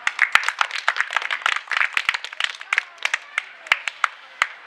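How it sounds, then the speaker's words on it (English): Schoolchildren in a classroom clap for a classmate during a spelling bee, a quick patter of many hands that thins into scattered separate claps toward the end. "Clap for her."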